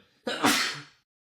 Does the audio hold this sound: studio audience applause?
no